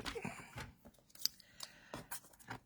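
Paper being trimmed with scissors while making a gift box: a few quick, close, quiet snips and rustles spread over a short moment, with no one speaking.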